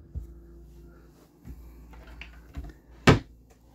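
A drawer in a Winnebago View 24D RV swings freely and knocks, giving a few soft wooden bumps and clatters spread over a few seconds, ending in one sharper, louder clack.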